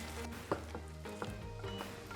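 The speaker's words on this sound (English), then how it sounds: "So you just want to let that cook down for about 15 minutes on a low to medium heat." A lemon spread mixture cooking down in a pan over low to medium heat, a soft steady simmering sizzle with a few light clicks of utensil against pan, quiet and with no speech.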